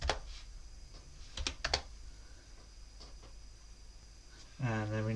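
Keys clatter on a computer keyboard as commands are typed, a brief cluster of quick clicks followed by a few scattered taps. A voice starts talking near the end.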